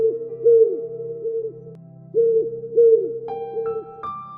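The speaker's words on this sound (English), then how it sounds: "The owl's call came closer" A wild owl in a moonlit winter forest calls back and forth, a series of clear, rhythmic hoots that swell and fade, some sliding upward near the end, with no voices.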